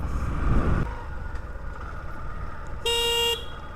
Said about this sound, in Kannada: ಹಾರನ್ನು ಕೂಡ ಲೌಡಾಗೇ ಇದೆ, ಒಳ್ಳೆ ಡೀಸೆಂಟಾಗಿದೆ ಹಾರನ್ನು ಕೂಡ